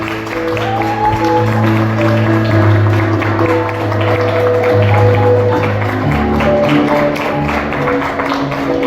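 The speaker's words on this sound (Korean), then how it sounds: "다시 한번 뜨거운 박수로 축하해 주시면 감사하겠습니다." Wedding guests at a wedding hall ceremony applaud as the bride and groom march out, the dense clapping steady and loud beneath sustained music throughout.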